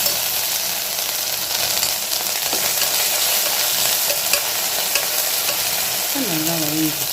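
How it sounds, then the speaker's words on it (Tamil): Ginger-garlic paste with onion, tomato and chili sautés for a beef fry, a steady close sizzle with scraping stir strokes throughout, and a brief tonal whine near the end. "இதை சேர்த்து இதையுமே நல்லா வதக்கிக்கிறோம்."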